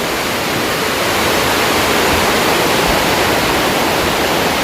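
Heavy rain pouring down at Kheralu, a loud, dense, unbroken roar of falling water close by with no voices.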